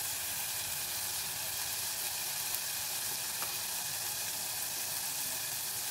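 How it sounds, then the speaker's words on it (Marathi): Masala and turmeric-coated chicken sautéing in ghee, an even, steady hiss and crackle of frying that holds at a moderate level throughout, with a few faint stirring clicks and no voices. "हा मसाला जरा तूप सोडेपर्यंत आजूबाजूला कडेला परतून घ्यायचं आपल्याला"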